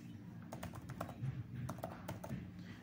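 Fast, light clicking of typing on a computer keyboard while writing code, an irregular patter of keystrokes heard close but quiet, with no talk over it.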